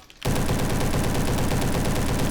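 SM-03 submachine gun in Roblox Bad Business, starting abruptly and firing a loud, close, rapid automatic stream of evenly spaced shots without pause.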